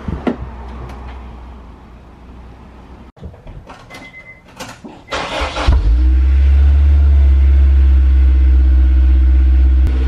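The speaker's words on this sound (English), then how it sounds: "let's go ahead and fire up the S2000" A Honda S2000 starts inside a garage: a few clicks and a door clunk, a brief cranking whir, then the engine catches and settles into a loud, steady, close idle rumble.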